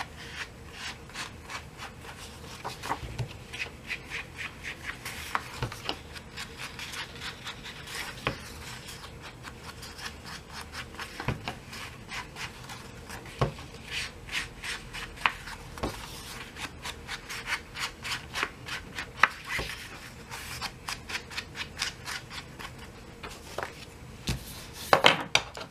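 Ink is rubbed around the edges of an altered CD/DVD case craft project, heard as a long run of quiet, close, dry rubbing strokes in an irregular rhythm with occasional sharper taps, with no talking.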